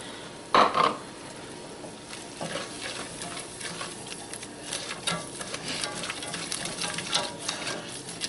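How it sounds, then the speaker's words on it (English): Flour is stirred into melted butter to cook a roux, with soft, intermittent scraping and light sizzling close by. One sharper knock comes near the start. "I'm going to sprinkle in my flour. Start making a little bit of a roux."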